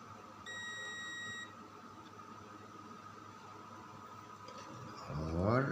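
A multimeter set to continuity buzzer mode while checking a MOSFET in an SMPS power supply gives a single steady beep lasting about a second, followed by quiet room noise. A voice starts speaking at the very end.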